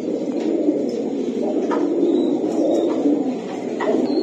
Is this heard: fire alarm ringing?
no